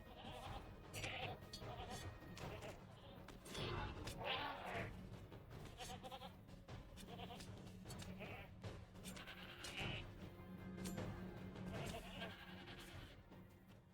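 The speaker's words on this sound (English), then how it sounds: "So many goats" Many goats bleat over and over amid continuous game sounds and music in The Lord of the Rings Online, some cries louder and nearer than others.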